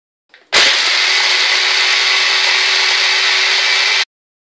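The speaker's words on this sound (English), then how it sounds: "So first I'm going to grind the biscuits." Biscuits being ground in an electric kitchen grinder for a homemade banana and cookie popsicle: a loud, steady motor whir with crunching that starts abruptly, runs for about three and a half seconds, then cuts off.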